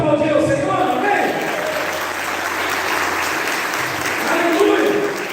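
A church congregation applauds at an anniversary service in Bagé, Brazil, with steady, dense clapping filling the whole stretch, loud and sustained, with voices mixed into the crowd noise.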